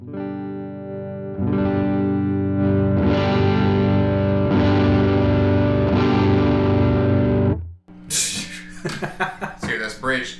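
Electric guitar with a coil-tapped bridge pickup played through a Klon Centaur overdrive pedal, guitar volume rolled back: sustained overdriven chords ring loud and close for several seconds, then give way to brief speech.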